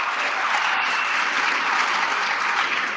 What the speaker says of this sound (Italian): Applausi dal pubblico.